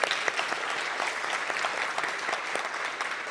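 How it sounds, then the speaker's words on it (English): Audience applauding finalists at a Three Minute Thesis national research competition, a steady, dense round of clapping from many hands, moderately loud and unbroken throughout. "round of applause for you all, to be perfectly honest."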